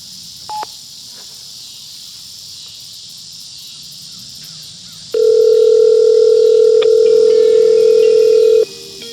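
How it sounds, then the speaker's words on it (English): Crickets chirp faintly in the background, then a loud, steady electronic ringing tone from a Globalstar GSP-1600 satellite phone sounds for several seconds before cutting off. "It's ringing me."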